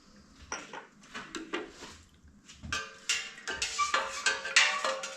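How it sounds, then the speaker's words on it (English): While ginger mead is stirred in a keg, the stirring utensil knocks against the metal dipstick in irregular clinks, taps and scrapes, close up and growing busier toward the end. "I keep hitting the dipstick, that's that sound."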